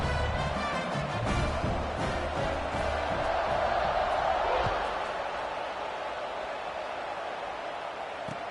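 A large stadium crowd at an Indiana at Arizona State football game roars continuously as the defense takes the field, a broad, steady wash of cheering and noise, loud and sustained throughout with no clear pauses.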